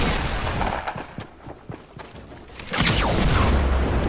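Gunfire in a console shooter game: scattered sharp shots cracking one after another, then a louder dense burst of shooting near the end.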